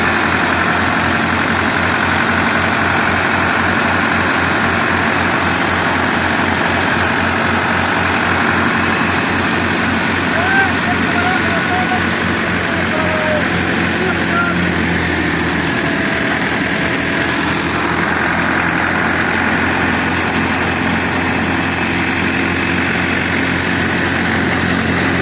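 A new Massey Ferguson MF 385 tractor engine idles close by with a steady, loud, low rumble that runs unbroken throughout, with no talk.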